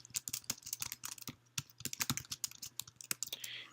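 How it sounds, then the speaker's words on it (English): Rapid, uneven clicking of keys on a computer keyboard as a headline is typed into a web dashboard, close and crisp with short bursts and brief pauses, no voices. "I can type in my headline, and then I can write my summary of what I'm going to say."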